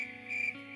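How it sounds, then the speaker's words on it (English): Crickets chirp in a steady high trill, faint and continuous over a quiet background, heard briefly without any talk. "I swear I heard crickets just now."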